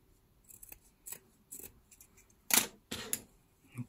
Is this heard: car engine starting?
no